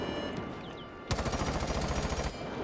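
Automatic gunfire in Rainbow Six Siege's shooting range, a steady rapid burst of about a dozen shots lasting over a second, loud and close, after a quieter stretch of game ambience.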